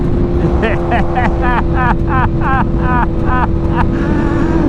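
A BMW M1000R motorcycle in race mode accelerates hard, its engine note surging and climbing through repeated rising sweeps, loud and close under constant wind roar.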